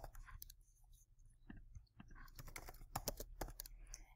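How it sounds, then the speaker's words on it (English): Keys clatter on a computer keyboard as a brand name is typed into a search bar, a quick run of close, crisp clicks in uneven bursts with soft pauses between. "So I'm going to type Luca in Google."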